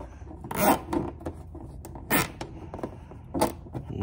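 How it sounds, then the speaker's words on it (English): Zip tie cinched tight while fitting an OEM front bumper on an Infiniti G37, heard as three short ratcheting zips spaced about a second and a half apart, close and crisp over quiet background. "All right, so here's the last zip tie."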